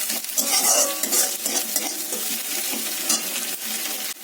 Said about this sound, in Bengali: পেঁয়াজটা একদম নরম করে ভাজা হয়ে গেছে, ব্রাউন করে